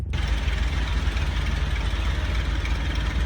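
A recorded tank engine from the game Aces High 3 runs steadily at 3000 RPM, a constant loud low rumble with no talking, starting abruptly.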